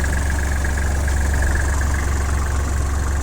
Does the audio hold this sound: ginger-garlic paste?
no